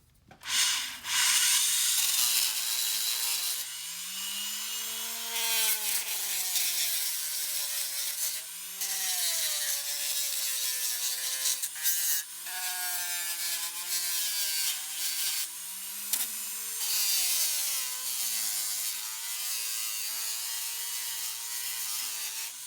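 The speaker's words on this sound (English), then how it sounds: "It's set up in it's a Dremel Advantage actually, and I'm running it on its slowest speed" A Dremel Advantage rotary tool spins at its slowest speed while sanding wood on a slow-speed mandrel, giving a steady, close rubbing whir with rising and falling tonal sweeps that runs on alone for the whole stretch.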